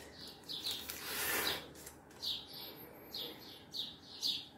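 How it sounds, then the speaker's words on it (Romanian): Small birds chirp outdoors in a series of short, high, bright calls, some clustered quickly together and others spaced apart, moderately close and clear against a faint background hiss. "Chiar dacă nu o să auziți păsărele afară, păsărele tot este."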